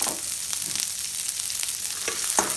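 Chopped onions sizzle and fry in hot oil in a pan for Chinese fried rice, a steady close crackle with brief louder spits, no talking.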